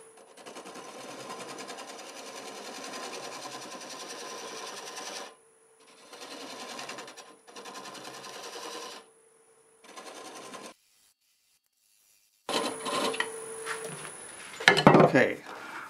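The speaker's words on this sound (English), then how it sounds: "I'm going to take this spindle gouge and cut it down even smaller" A spindle gouge cuts wood on a lathe while turning a small gift or craft piece, giving steady broadband scraping with a high whine in bursts broken by pauses. A louder, rougher stretch of cutting near the end finishes in sharp chatter.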